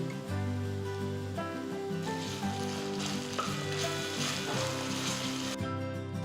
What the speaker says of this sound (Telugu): ఇప్పుడు నేను ఒక టీ స్పూన్ అల్లం వెల్లుల్లి పేస్ట్ వేస్తున్నాను